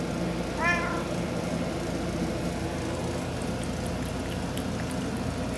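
A single short cat meow near the start, rising over a constant hiss of background noise, then only the steady noise continues.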